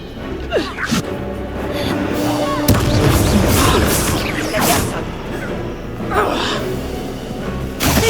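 Confringo fire-blast spells in the video game Hogwarts Legacy go off as a string of loud, booming explosive bursts. Combat clatter and crashes fill the gaps between the blasts.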